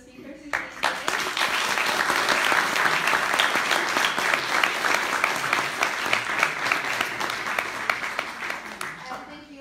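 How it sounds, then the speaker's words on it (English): An audience applauds the speakers at the close of a student panel discussion on the Balochistan conflict, dense sustained clapping from a full room that swells quickly and fades out near the end. "Can we give a round of applause to the speakers?"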